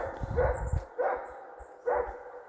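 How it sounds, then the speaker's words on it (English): A dog barks in a steep mountain valley, three separate barks about a second apart, each ringing with a strong echo, heard from a distance in open outdoor air. "Have a listen to that dog."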